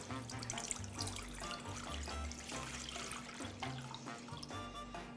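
Water pours continuously into a container to measure two litres for a brine, giving a constant close splashing gush with no pauses.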